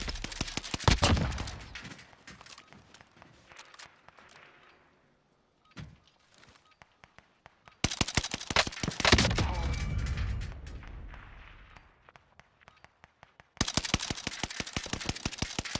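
BAR automatic rifle firing in a video game, with loud bursts of rapid shots separated by short pauses and quieter mechanical clicks, starting, stopping, then resuming in long sustained volleys.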